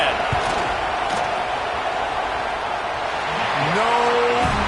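A dense stadium crowd roars throughout a college football game as a field goal attempt is lined up, steady and loud, with a few sharp shouts and whistle-like tones rising near the end.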